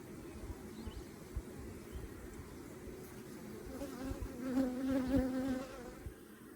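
Honey bees buzz around a queen cage during beekeeping work, a soft steady hum of many insects that swells louder toward the end as bees pass close by.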